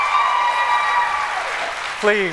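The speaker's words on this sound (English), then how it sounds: "Please, audience, please. No applause." A debate audience at the televised 2018 Texas Senate debate applauds in a steady, dense wash of clapping that fills the hall, with a voice speaking over it toward the end.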